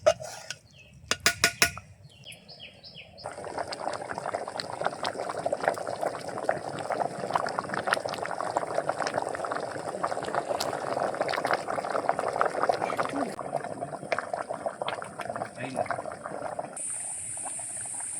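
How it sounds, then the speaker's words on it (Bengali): A pot of rice and lentils for egg khichuri boils steadily with a dense, bubbling simmer, heard close and alone after a few sharp clatters at the start. "চাল আর ডালটা দিয়ে 5 মিনিট মতো ফুটিয়ে নিয়েছি"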